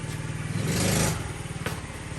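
A motorcycle engine runs in gear at close range, a fast steady putter that swells briefly into a louder rev before settling back to a rhythmic idle-like chug.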